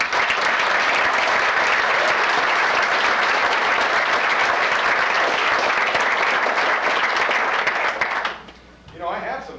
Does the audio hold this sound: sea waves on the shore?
no